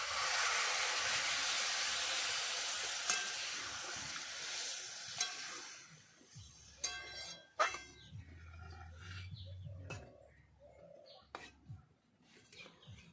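Water poured into a hot pan of potatoes and spices for a vegetarian aloo dum sets off a loud, steady close sizzling hiss for about six seconds, which then dies down into quieter bubbling with scattered utensil clinks and scrapes.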